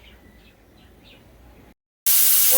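Pressure cooker cooking dal for sambar lets out a loud, hissing steam whistle that bursts in abruptly after a moment of silence, with faint bird chirps heard quietly beforehand.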